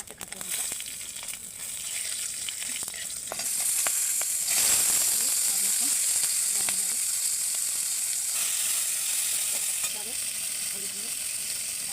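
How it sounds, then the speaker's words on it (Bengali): Panch phoron and four green chilies hitting hot oil, a bright hissing sizzle that swells loudly mid-way and then holds steady, with light stirring clicks and faint voices in the background. "এবার দেবো 5 ফোড়ন, 4টে কাঁচা লঙ্কা"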